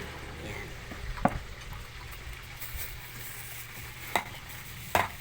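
Food frying in a pan as soy sauce is added and stirred in, a soft steady sizzle with a few sharp utensil scrapes and knocks against the pan.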